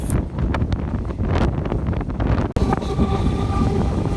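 A train rushing past at high speed, heard from aboard another train as a loud roaring rumble with heavy wind buffeting, an abrupt dip midway, then steady rattling rail noise.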